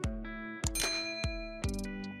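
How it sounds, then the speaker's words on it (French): A notification bell effect gives a series of bright metallic dings with ringing tails, about four strikes in quick succession, clear and alone. "activer la cloche de notification pour ne pas manquer nos prochaines publications"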